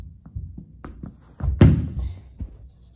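Knee hockey or floorball stick shots, a series of hollow taps and thunks with one louder, sharper strike near the middle, close and indoors.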